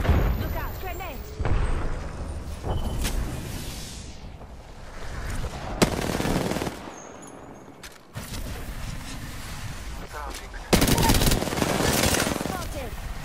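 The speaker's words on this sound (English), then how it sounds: "I am taking fire, friends." Bursts of automatic weapon fire rattle through an Apex Legends match, arriving in several loud volleys separated by short lulls, with game voices and other effects in between.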